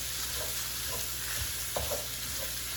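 Ground taco meat with onions frying in a pan over a medium flame, a quiet steady sizzle with a few soft scraping stirs as the meat is broken up, close by and without talking.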